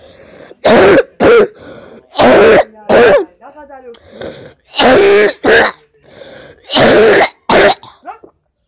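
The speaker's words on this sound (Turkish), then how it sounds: "öksürdüm yanlışlıkla." Several sharp throat-clearing coughs in close bursts, loud and near, with a short stretch of softer sound between them.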